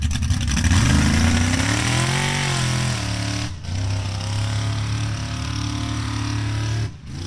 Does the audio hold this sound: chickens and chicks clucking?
no